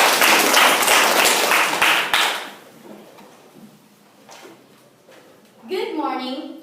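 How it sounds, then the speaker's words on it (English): Applause for the second proposition speaker at a Grade 9 school debate, a short burst of crowd clapping that quickly fades, followed by a quiet stretch and then a voice starting to speak. "A round of applause, please."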